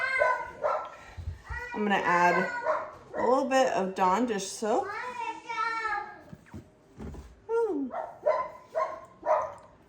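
A dog barks and yips indoors in a home during household cleaning, several sharp barks mixed with children's voices and someone talking over them, all fairly close.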